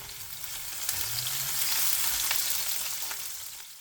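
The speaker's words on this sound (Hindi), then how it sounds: "तो इन सारी चीज़ों के साथ ना मैं प्याज ब्राउन करूँगी।" Onion browning in hot oil with cinnamon sticks, cumin, cloves and black and green cardamom, a steady close sizzle that swells slightly, with faint clicks of stirring and no talk.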